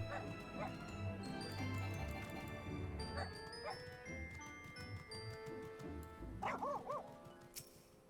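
A dog gives several short barks and yips, with a whimpering, wavering call near the end, all set against a busy background of music-like tones and other sounds.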